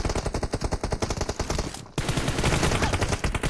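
Rapid automatic gunfire in the PUBG Mobile shooter game: a dense, steady stream of close, loud shots that pauses briefly and then resumes at full volume.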